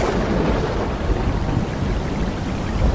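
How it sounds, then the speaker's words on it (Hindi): A rain and thunder sound effect for a horror story: heavy rainfall under a low, rolling rumble of thunder, loud and steady throughout, with no voices. "अचानक से बारिश शुरू हो गई।"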